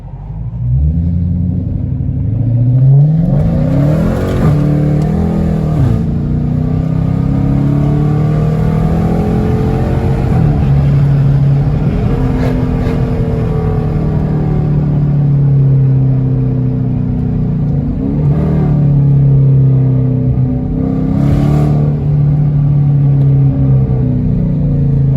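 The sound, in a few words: Dodge Challenger RT with catless exhaust pulling out, driving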